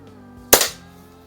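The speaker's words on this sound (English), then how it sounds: "Can't shoot a Daisy lever action and not shoot at a can, but let's see what we can hit." A single sharp, close crack comes from a Daisy Model 99 lever-action BB gun and decays quickly.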